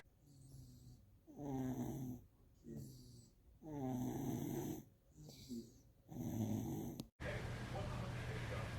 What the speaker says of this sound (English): that girl was snoring like a grown man